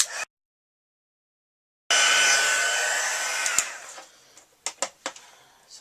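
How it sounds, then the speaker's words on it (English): A heat tool set on high embosses a stamped sentiment on a greeting card. A short blast is followed by silence, then a steady close blower hiss that fades with clicks and bumps as it shuts off. "I'm going to have my heat tool here. I'm going to put it on high, and we are going to emboss our sentiment."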